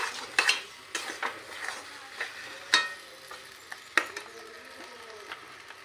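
A jackfruit mixture is stirred and mixed in a frying pan, with a spatula scraping and clinking against the metal in irregular strokes over a soft sizzle, close up and without voices.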